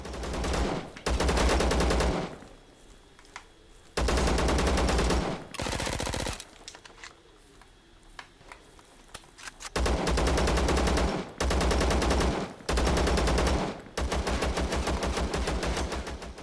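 Gunfire in the video game Zero Sievert: long bursts of rapid automatic fire alternating with short pauses, loud and close, with a few single shots between the bursts.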